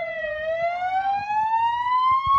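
An emergency vehicle siren wails at a staged traffic-accident rescue drill, a single rising tone climbing steadily, loud and clear with faint background noise.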